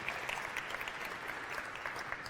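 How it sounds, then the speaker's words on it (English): Brief, dense applause from an audience at a launch briefing, steady and fairly close, a short burst of many hands clapping together with no voices over it. "a big round of applause for our friends from the 30th Space Wing"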